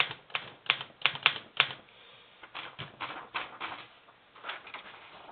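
Typebars of a 1912 Underwood No. 5 manual typewriter snap against the platen in quick, uneven bursts of sharp clacks. A few fast strokes are followed by a lighter, steadier run of keystrokes, heard close and alone.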